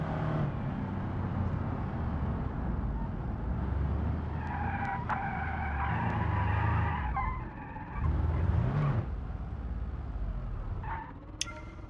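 Tires screech and skid under a droning engine in the BeamNG driving game, a long continuous squeal with shifting pitch that eases off and returns, with no talk over it.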